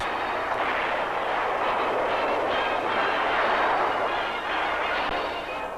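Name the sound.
heavy artillery cannon barrage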